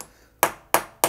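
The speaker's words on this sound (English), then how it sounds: "you can just simply just tap the bushing in" A bushing is tapped into a Cooper S rocker arm with three sharp, evenly spaced metallic taps, close and crisp against a quiet background.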